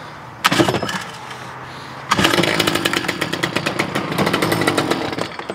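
A Stihl string trimmer's small two-stroke engine pull-started on choke: a sharp starter-cord rip, a pause, then the motor catches and idles roughly with rapid popping, close and loud.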